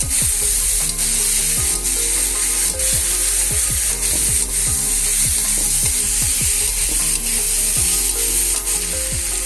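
Khosla greens with salt and turmeric being stirred in a pan, with steady sizzling under repeated scraping and knocking strokes of a spatula, close and loud throughout.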